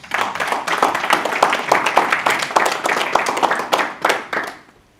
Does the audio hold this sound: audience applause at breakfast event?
yes